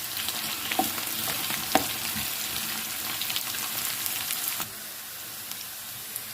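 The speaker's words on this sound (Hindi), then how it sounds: "3 से 4 मिनट तक प्याज को भी सौते कर लेंगे।" Onions sautéing in a pan for potato bhujia: a moderate steady sizzle with a few light spatula taps, easing to a quieter sizzle partway through, no voices.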